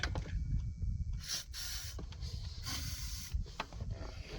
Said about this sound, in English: Put a little WD on there.